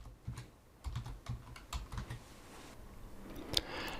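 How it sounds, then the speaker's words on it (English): Keystrokes on a computer keyboard as a search term is entered, irregular clicks in short bursts and pauses, close and fairly quiet, with no talking over them. "So I type in dyslexia in the search box."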